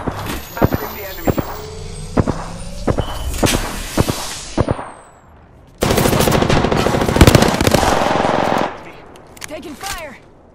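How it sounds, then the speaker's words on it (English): Apex Legends gunfire comes in sharp single shots and bursts, then a long sustained automatic volley, loud and close, with a character voice calling out in between. "Taking fire."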